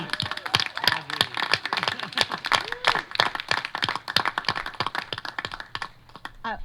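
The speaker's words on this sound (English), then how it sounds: "One round of applause for Audrey." An audience claps in applause, a dense run of sharp hand claps with a few whoops and cheers rising above it, steady for several seconds before thinning out at the end.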